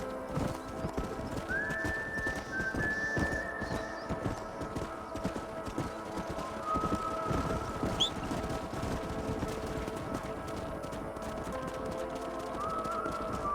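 Horses clip-clopping at a walk in Red Dead Redemption, a steady close hoof rhythm running throughout, with a few neighs and whinnies mixed in and a busy game soundscape behind.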